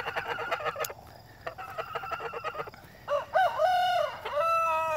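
A cockerel on a small homestead gives a few clucks, then lets out a full, loud crow close by, its drawn-out call rising and falling over faint background noise.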